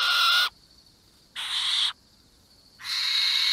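An owl in Alba: A Wildlife Adventure gives three loud, clear hoots, each about half a second long and separated by pauses of near silence.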